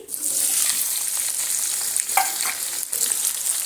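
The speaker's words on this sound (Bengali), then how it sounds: "পেঁয়াজটা আমি তেলের মধ্যে দিয়ে দিচ্ছি" Thinly sliced onions dropped into hot oil for egg biryani, giving a loud, dense, continuous hiss with a few brief stirring scrapes.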